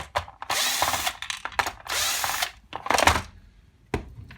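Screws being driven out of a Triton T70gsi electric shower during a teardown, with several short bursts of a small power driver whirring close up, separated by brief pauses.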